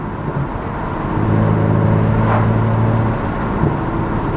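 A BMW 435i Stage 2 with an anti-lag tune pulls hard in second gear, its engine note rising into a steady, loud droning rev that holds for a couple of seconds before easing off, with road noise underneath.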